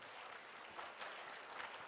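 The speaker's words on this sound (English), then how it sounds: "Clapping banti hai, clapping banti hai." Audience applause at a national conference session for accountancy students, a steady wash of clapping that stays fairly faint and distant throughout the short stretch.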